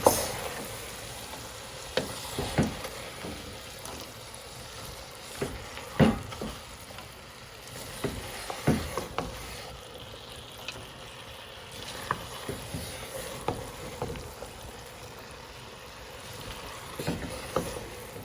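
Chicken and shrimp chow mein stir-frying with soy sauce in a pan, a low, continuous sizzle broken by irregular scraping and tossing clatters of the utensil throughout, with no talking.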